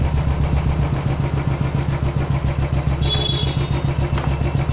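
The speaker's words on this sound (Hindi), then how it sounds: "लो आरपीएम पे छोड़ देंगे इसे, ताकि ऑयल सारा सर्कुलेट हो जाए पूरे इंजन का।" Royal Enfield motorcycle engine idling at low RPM after an oil change, a close, steady thumping putter with metallic clatter, loud and rhythmic throughout.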